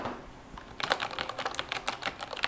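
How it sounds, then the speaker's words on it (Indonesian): Typing on a Corsair K68 mechanical keyboard with MX Red switches produces a quick, steady stream of soft, close keystroke clacks, heard alone. "mau kasih dengar kalian guys suara yang dihasilkan oleh Corsair K68"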